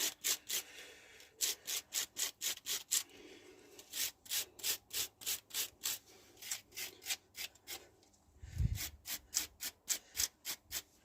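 Brake caliper sliders on a Rover 75 being cleaned of corrosion, heard as brisk rhythmic scrubbing strokes in quick regular bursts, close and fairly quiet, with a brief dull knock partway through.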